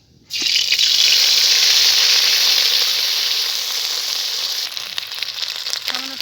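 Ginger paste hits hot oil and bursts into a loud, steady sizzle that starts abruptly and holds close and bright throughout, slowly easing toward the end.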